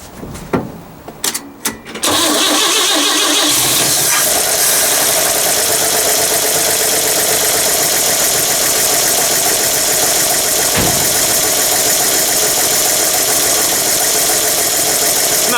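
A cold Chevy 235 straight-six cranks with a few sharp clicks and catches, then settles into a loud, steady idle with an even rumble and a busy mechanical clatter that continues throughout.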